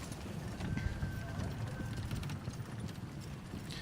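Horses at a combined carriage driving event, their hooves clip-clopping at a steady trot amid open outdoor ambience, moderately distant, with faint voices in the background.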